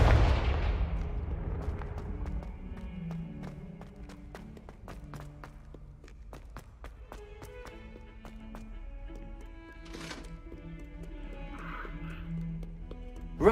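Confringo fire spell blasts in Hogwarts Legacy, a burst at the start, then a string of sharp, rapid magical impacts and crackles over a low ambient game soundscape.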